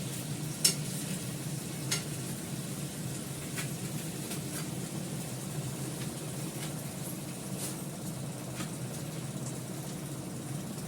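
An egg and potato curry simmering and sizzling in a pan after a little water is added, a soft continuous bubbling hiss with occasional sharp ticks and clinks, close and fairly quiet.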